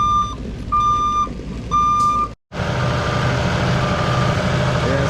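A dump truck's reversing alarm beeps three times in a steady rhythm over its engine, then a short gap gives way to loud, close diesel idling and rumbling.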